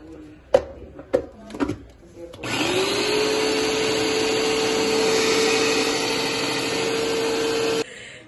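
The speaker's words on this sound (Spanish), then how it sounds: "Ahora voy a moler aquí los sazones para el pollo" A small electric grinder whirs steadily for several seconds as it grinds seasonings for chicken in a home kitchen in Guanabo, Cuba, after a few sharp knocks and clatters, then cuts off abruptly.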